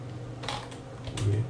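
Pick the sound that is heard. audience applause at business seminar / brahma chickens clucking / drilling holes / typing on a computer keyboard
typing on a computer keyboard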